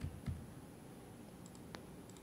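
A few quiet keystrokes tap on a computer keyboard, a short cluster of soft clicks near the start and a couple more sparse ones later, faint against low background hiss.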